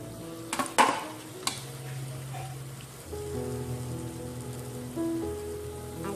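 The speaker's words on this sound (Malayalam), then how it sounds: "നമുക്ക് ബാക്കിയുള്ളതും കൂടെ ഇതിലിട്ടിട്ട് ഫ്രൈ ചെയ്തെടുക്കാം." Homemade doughnuts frying in hot oil give a steady, close sizzle, with a few sharp clinks and stirring knocks near the start. No one speaks.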